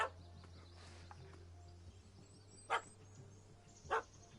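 A puppy chasing a cat barks twice, short sharp yaps a little over a second apart, with a low steady hum underneath.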